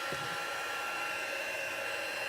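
A hair dryer blows steadily at close range in a continuous rushing roar, drying a Brusho crystal colour card after the watercolour crystals were wetted, with no talking over it.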